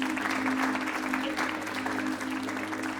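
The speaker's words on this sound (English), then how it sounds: "Can you please give him a round of applause?" Sustained crowd applause at a golf day banking sector event, steady and fairly loud clapping filling the whole moment, with a faint hum beneath and no speech.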